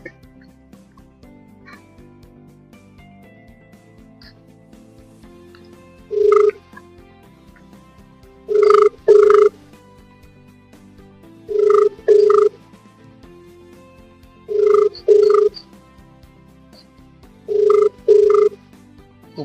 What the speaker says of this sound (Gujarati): ફોન લગાડીએ છે